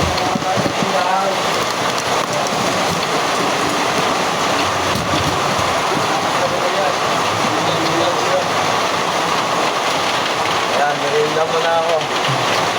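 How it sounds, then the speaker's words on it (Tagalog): Steady rain falls outdoors as a constant, loud wash of noise throughout, with voices speaking over it now and then. "Ay, umuulan na guys. Ayan, umuulan."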